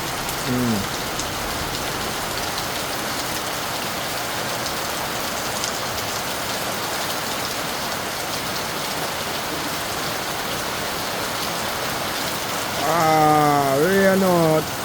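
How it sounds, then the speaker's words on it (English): Steady rain patters on a house roof in a continuous even hiss throughout, with a brief voice-like murmur near the end. "I hear rain from house top"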